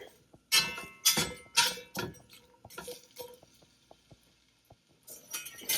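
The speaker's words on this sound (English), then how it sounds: "add in our onions. Just stir this very simply" Onions being stirred in a cooking pan, with a utensil clinking and scraping against the metal in several sharp bursts separated by short quiet gaps, close and fairly loud.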